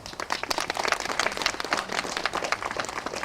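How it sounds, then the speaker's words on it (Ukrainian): People at a charity fair and auction in Ternopil region, raising funds for the Ukrainian armed forces, applaud a named donor; the clapping is lively and uneven, with distinct individual claps close by. "Андрій Михно, оплески"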